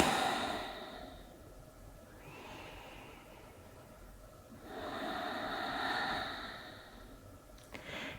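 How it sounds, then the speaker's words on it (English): Slow, deep breaths during a calming yoga session: two long airy inhale-and-exhale swells, close and fairly soft, with no talking. "We're gonna take a couple breaths right here."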